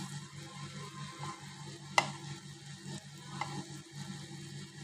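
Koi fish frying in oil in a pan, with a soft steady sizzle and one sharp clack as the fish are flipped, then a fainter knock later.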